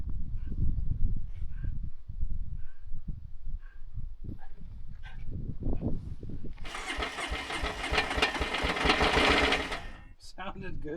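A Polaris RZR engine cranks and runs in rough, uneven bursts with speech over it, then a sustained broadband roar, before cutting out abruptly near the end.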